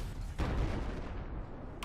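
An explosion in Battlefield 4 hits as a deep, muffled blast that rumbles briefly and fades, followed by a short sharp crack near the end.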